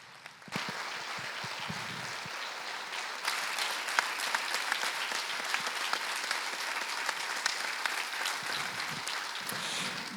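An audience gives a warm round of applause welcoming Valentina Mastroianni at an evening talk, starting abruptly after a quiet moment and building into sustained, dense clapping that carries on to the end.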